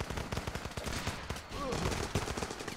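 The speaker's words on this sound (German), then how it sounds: "Oh, ich werde hier gerade hart beschossen." Heavy automatic gunfire in the war video game Running With Rifles crackles in rapid, continuous bursts, a dense fusillade that rattles throughout at moderate level.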